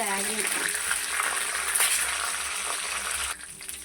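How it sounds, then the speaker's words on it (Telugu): Green chillies and peanuts frying in hot oil, giving a steady close crackling sizzle with bursts of spattering, easing off slightly near the end. "ఆయిల్ వేడెక్కిపోయిందండి, పచ్చిమిరపకాయలు వేసుకుందాం. అలాగే కొంచెం పల్లీలు కూడా వేసుకుందాం."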